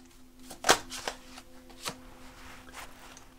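Tarot cards being shuffled give a few sharp, close snaps and soft riffles at uneven intervals over a faint steady hum.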